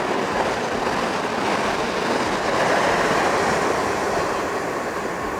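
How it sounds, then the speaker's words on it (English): A train pulls into a station on the South Eastern Main Line, a steady broad rumble of wheels and rolling stock at moderate distance, continuous and unbroken, with no talk over it. "perfect timing for a train."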